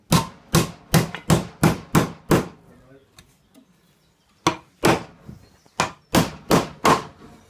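A hammer drives nails into the wooden frame of a National hive brood box, six quick sharp blows, a short pause with faint handling, then two more bursts of loud ringing strikes, close up.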